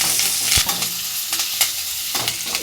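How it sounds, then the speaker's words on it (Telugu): Dried red chilies, green chilies and curry leaves crackle and hiss as they fry in a tempering, with a few sharp stirring scrapes and pops over a steady sizzle, close and alone. "ఈ పోపు అంతా వేగిందండి"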